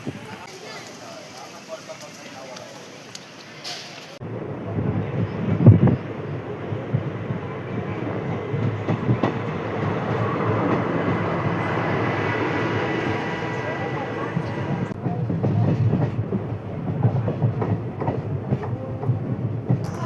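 A passenger train runs on rails near Lunidhar station on a route toward Lathi in Gujarat. A steady, loud rumble and rattle of the carriages swells in and holds for around ten seconds, with voices faintly present throughout.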